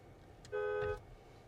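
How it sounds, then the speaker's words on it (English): One short Tesla Model 3 horn honk, fairly faint and muffled as if heard from inside the car with the AC off, lasting about half a second. "we're gonna go ahead and test out the horn"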